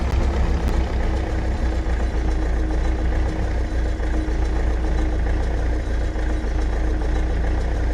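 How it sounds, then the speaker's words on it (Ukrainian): A Lada Samara engine idles steadily in Farming Simulator 22, a constant low rumble that stays loud and unchanging throughout with no voices over it. "Давайте будемо пробувати заводити ладу самару."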